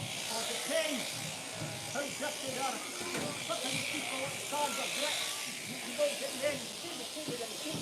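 Electric shears run steadily through a sheep's fleece on shearing day, a continuous buzzing hiss heard up close beneath people talking throughout.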